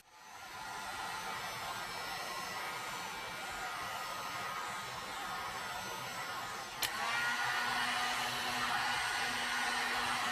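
A heat tool blows a steady, close, hair-dryer-like whoosh over epoxy resin art for about ten seconds. A short click partway through is followed by a slightly louder, hummier tone.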